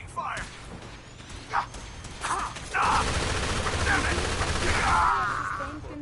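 Fallout 4 combat gunfire, sustained bursts of automatic shots and whooshes that build from scattered pops into a dense, loud fusillade, with game voice lines in between.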